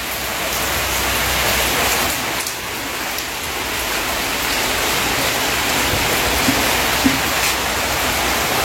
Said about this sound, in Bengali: আর দেখো এই যে বৃষ্টি আবার আসলো, কমেছিল একটু আগে, আবার বৃষ্টি আসলো।